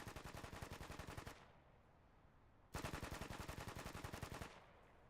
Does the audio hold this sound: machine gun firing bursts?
yes